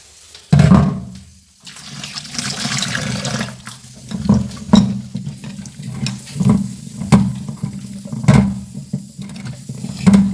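Running tap water splashing over onions being washed in a kitchen sink, a steady loud gush with repeated rhythmic sloshes and knocks as the bulbs are rubbed and turned, close by with no talk.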